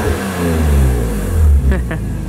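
A BMW Z4M Roadster's exhaust revs with a metallic, raspy rumble, loud and close, with a couple of sharp blips near the end.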